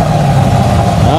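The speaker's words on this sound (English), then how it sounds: "Listen to that exhaust." A white 2010 Chevrolet Camaro 2SS coupe with cam work idles loudly through its exhaust, a steady close rumble that holds throughout and swells slightly at the end as the engine is given gas.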